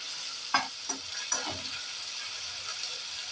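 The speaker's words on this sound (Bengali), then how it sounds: "পেঁয়াজটা যতক্ষণ না একটু গোল্ডেন কালার হবে, ততক্ষণ আমি এটাকে একটুখানি ভাজতে থাকবো।" Onions fry in oil, giving a faint, steady sizzle with a few soft scrapes of a spoon stirring near the start.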